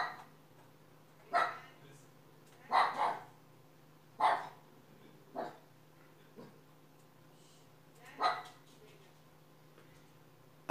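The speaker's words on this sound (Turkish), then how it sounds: "köpek havlıyor" A dog barks several times at a distance, single and double barks spaced irregularly over a low steady hum.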